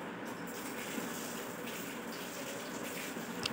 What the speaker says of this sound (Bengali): এবার আমি জল খুলে দেব